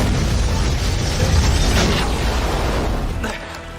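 A loud, rumbling blast with a broad roar that holds for a few seconds before tapering off, heavy and close.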